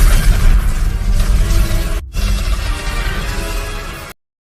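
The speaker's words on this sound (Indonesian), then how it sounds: "Ledakan besar terjadi." A big explosion rocks the S.H.I.E.L.D. Helicarrier in The Avengers, a dense, loud rumbling blast that keeps roaring with debris and low booms for several seconds before cutting off abruptly, with no speech.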